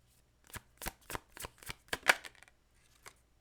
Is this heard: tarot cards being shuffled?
yes